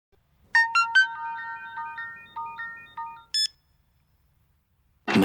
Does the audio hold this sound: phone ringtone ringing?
yes